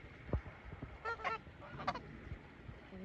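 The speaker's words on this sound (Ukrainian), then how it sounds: "Гусички мои." Geese honking nearby in a rural yard, several loud nasal honks in short bursts with some quieter calls and rustling between them.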